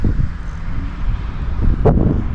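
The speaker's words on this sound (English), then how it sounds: "it's kind of windy" Wind buffets the microphone outdoors during trailer tail light replacement with LEDs, a steady low rumbling gust noise lasting throughout, with a brief sharper rustle near the end.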